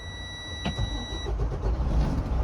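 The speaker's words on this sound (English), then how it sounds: "Now I'm going to go ahead and start my truck." A truck with air brakes cranks and fires up, with a sharp starter burst followed by a rising engine rumble that settles into a steady idle, loud and close.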